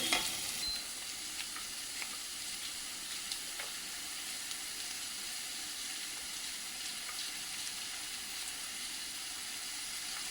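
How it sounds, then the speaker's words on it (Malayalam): Mushrooms and butter frying in hot coconut oil for a butter mushroom curry, giving a steady, close, even sizzle with a hissing crackle that runs throughout with no talk. "കുറച്ച് മഷ്റൂമും കുറച്ച് ബട്ടറും കൂടി ഇടാം"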